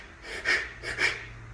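Two heavy, exaggerated panicked breaths, each a loud airy rasp about half a second apart, performed up close as a demonstration of chest breathing during panic.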